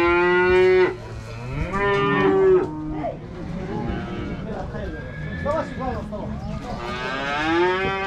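Calves at the Merki livestock market give several drawn-out, rising bellows over a busy background of people talking and market bustle.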